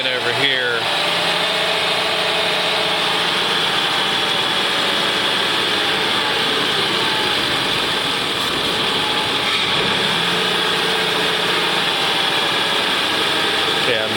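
A Ford Windstar 3.8L V6 idles roughly with a cylinder 3 misfire from a failing coil pack, a loud, close, continuous engine rumble with faint pitch wavers as it stumbles.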